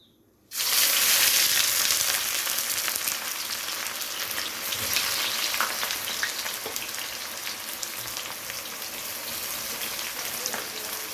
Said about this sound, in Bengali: এবারে তেলের মধ্যে পেঁয়াজগুলোকে দিয়ে দেবো।